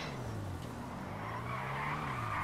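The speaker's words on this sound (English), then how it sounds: "this car is a drift car, so you know what you gotta do? This. Yeah. We're gonna like do donuts" A drift car, the Maibatsu Penumbra FF in the video game GTA 5, spins donuts with a steady, continuous tire squeal and skidding hiss over a droning engine, loud and unbroken throughout.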